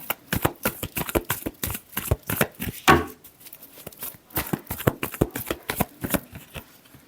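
Tarot cards being shuffled by hand, a long run of quick, crisp riffling taps close by with a brief pause near the middle before the shuffling resumes.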